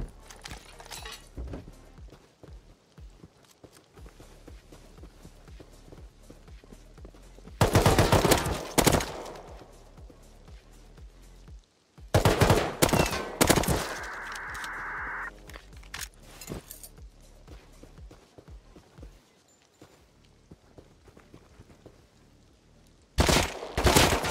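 Gunfire from an extended-magazine prototype rifle in Rust, a 2x vanilla solo PvP event, comes in loud, dense bursts of rapid automatic shots separated by stretches of quieter background rattle and distant pops.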